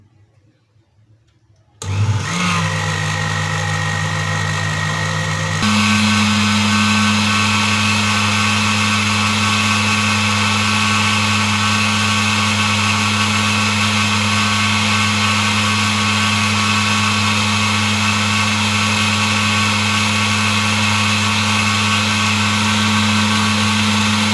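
A blender whirs loud and steady, mixing a mango ice cream mixture tinted with yellow food colouring; the motor kicks in after a brief quiet start and holds a constant drone without pause.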